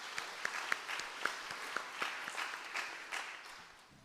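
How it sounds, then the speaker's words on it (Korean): A church congregation claps in scattered, fairly quiet applause, individual claps audible among a soft patter that tapers off toward the end. "우리 감사와 격려의 박수 하시겠습니다."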